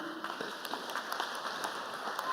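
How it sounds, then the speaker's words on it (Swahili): Congregation clapping during a Kikuyu-language church service, scattered claps rising into moderate applause, a crowd sound heard from a middle distance. "Makofi."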